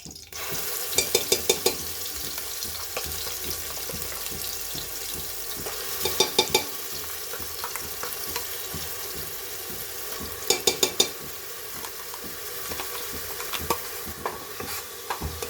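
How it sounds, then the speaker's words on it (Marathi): Ground masala paste for homemade misal fries and sizzles softly in hot oil with curry leaves and bay leaf, while a spoon scrapes and stirs the pan in repeated clinking bursts, no talk. "हा चांगला लाल भाजून घेऊयात."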